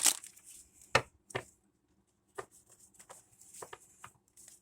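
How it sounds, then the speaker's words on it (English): A deck of pick-a-card oracle cards is shuffled by hand in a quiet room, with soft irregular riffles, slaps and taps coming in short bursts separated by pauses. "I don't use these cards very often, so they're still kind of hard for me to shuffle."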